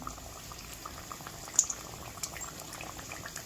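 Vadas for vada pav deep-frying in hot oil until golden, giving a steady close bubbling sizzle with small pops throughout and no talking.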